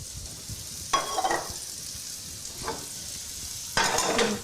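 Reserved cooked marinade hits a hot pan for honey five-spice pheasant, giving three short bursts of sizzle separated by quieter stretches of low crackle, close at hand.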